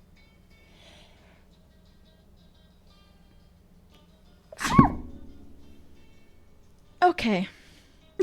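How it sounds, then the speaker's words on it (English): A single loud, close sneeze bursts out after a quiet stretch, followed by a short trailing breath and a second sharp vocal burst, with a brief spoken word in the clip. "I have to sneeze."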